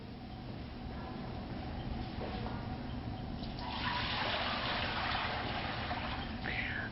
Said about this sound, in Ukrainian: В чан машини ми наливаємо теплу воду.